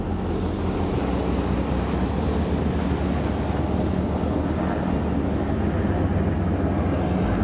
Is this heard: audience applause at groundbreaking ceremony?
no